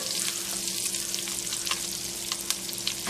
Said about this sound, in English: I'm getting all of those little bits of pieces of sausage that may have been left at the bottom of the pot